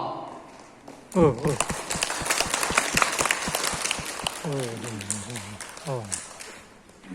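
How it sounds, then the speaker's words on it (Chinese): A meeting crowd gives a councillor warm applause as he leaves, a burst of clapping that swells and then thins while a speaker's voice talks over it at intervals. "现在我们再以热烈掌声来欢送他参与的公务"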